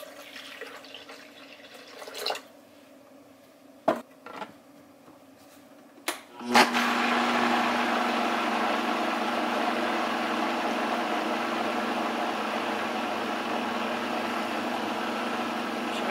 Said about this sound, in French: Je vais faire ça dans le Vitamix.